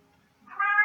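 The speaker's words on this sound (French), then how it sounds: "Le chat se met à chanter tout d'un coup" A cat suddenly breaks into loud meowing at close range, the call swelling from near silence into a sustained, tonal yowl that holds strong through the last half second.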